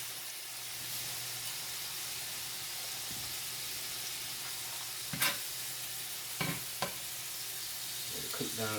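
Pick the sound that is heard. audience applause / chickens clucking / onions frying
onions frying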